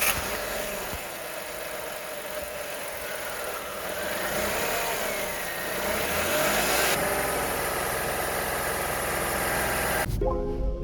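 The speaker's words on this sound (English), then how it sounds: "Let's start the engine." A Renault Kwid with a manual gearbox idles with a steady, fairly loud engine drone and mechanical whir, rising slightly midway, then cutting off sharply near the end.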